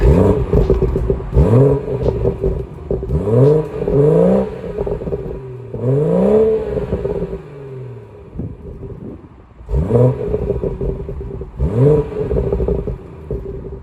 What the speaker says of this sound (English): some sound clips real quick of that exhaust